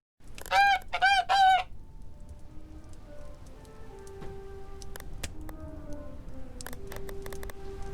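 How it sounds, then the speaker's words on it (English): A passing flock of geese gives a short burst of loud, harmonic honks near the start, followed by quieter, scattered tonal calls over a steady low background. "she waved at a passing flock of geese"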